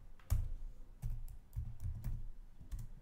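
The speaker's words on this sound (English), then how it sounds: "just type Jupyter" Keys clacking on a computer keyboard while a command is entered into a black Anaconda Prompt console, in a few quick bursts of close, crisp taps.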